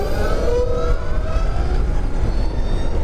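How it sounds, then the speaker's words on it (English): Motorcycles riding past alongside a quiet electric bike ride: a continuous rushing engine and wind noise with faint rising whines, steady and fairly loud, no talk. "You can hear all these bikes going."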